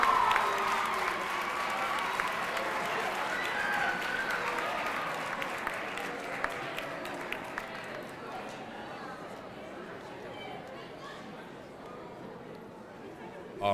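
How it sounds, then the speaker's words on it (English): A crowd gives sustained applause for a school principal at a high school gathering, with steady dense clapping and some chatter that fades gradually toward the end. "Ladies and gentlemen, a nice round of applause for Stephanie Nixon."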